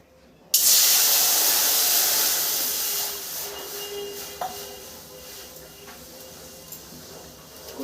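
Water heating for a semolina pitha batter gives off a loud, steady hiss that starts abruptly and slowly fades, with faint clinks over the fading hiss.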